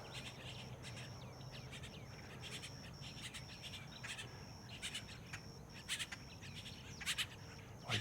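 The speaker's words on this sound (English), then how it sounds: "I just listen to those birds." Birds chirp and call intermittently in a quiet early-morning outdoor setting near a fishing dock on the road to South Padre, with repeated high tweets and a few louder bursts near the end.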